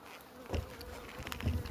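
Honeybees buzz around a Dadant Blatt or Farrar beehive during a May hive inspection, a faint close hum with brief louder passes as individual bees fly near.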